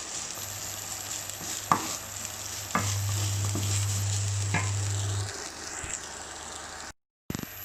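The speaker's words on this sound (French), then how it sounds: "Et là je vais mélanger." Stirring a white bean and chickpea galette batter in a bowl, scraping and clacking utensil strokes with a few sharper knocks over a constant soft background hum, no speech.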